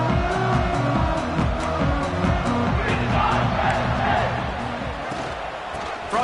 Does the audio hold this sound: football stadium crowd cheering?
yes